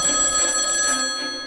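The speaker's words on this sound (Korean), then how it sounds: "이른 아침부터 주한 미국 대사관의 전화가 울렸어." A telephone rings early in the morning at the US embassy in Seoul, a steady, continuous ring that holds for about a second and a half and then softens slightly, with no voices.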